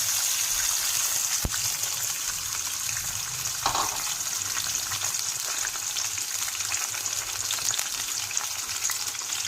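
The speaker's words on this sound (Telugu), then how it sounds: "ఇప్పుడు టమాటాలు వేసుకుంటున్నాను." Tomatoes hit hot oil for a spicy tomato kaaram, giving a steady, fairly loud sizzle and hiss throughout, with a sharp clatter near the start and a brief stir-like scrape midway.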